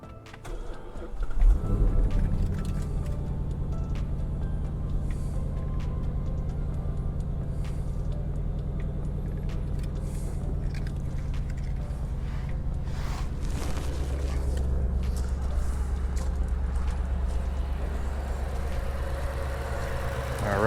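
A 2017 Ford Mustang GT engine with a Whipple Gen 3 3.0 supercharger cranks and catches around the two-second mark, then settles into a loud, steady, deep idle with a rough, lumpy rumble that continues to the end.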